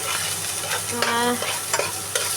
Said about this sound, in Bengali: এই তো সিম ভাজিটা করে নিচ্ছি হলুদ মরিচ পেঁয়াজ সব দিয়ে দিলাম